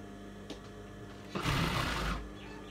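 A sewing machine stitching a pair of shorts runs in a steady mechanical burst of about three-quarters of a second, close and fairly loud, after quieter handling sounds.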